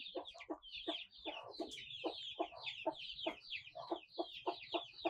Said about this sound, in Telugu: కోళ్ళు వాటిని గింజలను అయితే తినడానికి వచ్చినాయి